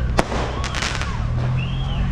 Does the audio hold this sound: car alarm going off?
no